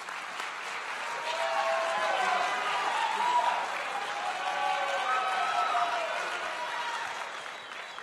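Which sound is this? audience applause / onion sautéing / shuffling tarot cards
audience applause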